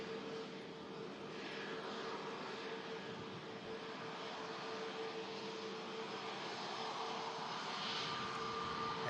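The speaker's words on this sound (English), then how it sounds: "Aircraft will be touching down with us within the next 2 minutes" An EasyJet Airbus A320 approaching to land at Manchester Airport during Storm Lilian: a steady, distant jet roar blends with broad windy rushing throughout, faint and unbroken with no voices.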